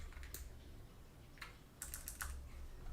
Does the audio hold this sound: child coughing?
no